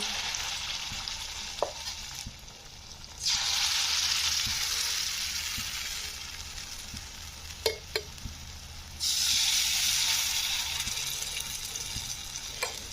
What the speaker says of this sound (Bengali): তেলটা কিন্তু গরম হয়ে গেছে এবার বড়াগুলো আমি ভেজে নিচ্ছি